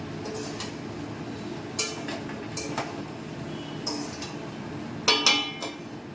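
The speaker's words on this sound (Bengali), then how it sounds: "দুধটা দিয়ে ভালো করে মিক্স করে নিতে হবে এটাকে একবার নাড়িয়ে দিই" A spoon stirs a milk mixture in a cooking pot in a home kitchen, giving scattered metallic clinks and scrapes against the pot every second or so over a steady background hiss, with no talking.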